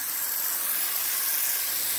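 A gentle water spray rinses the thin metal fins of an air conditioner unit, giving a steady, close, bright hiss that holds even throughout with no speech.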